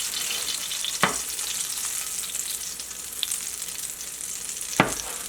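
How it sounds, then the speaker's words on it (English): Butter melts and sizzles in a pan ahead of cooking steak, a soft, steady frying hiss close by, broken by two sharp clicks or taps of a utensil. "Melt the butter gently."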